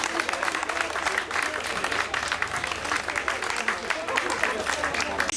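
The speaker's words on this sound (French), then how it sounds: "on peut l'applaudir comme il se doit" A crowd at a Grand Prix cycling race in Fouchy claps steadily for the winner, with dense, continuous applause filling the whole stretch at an even level.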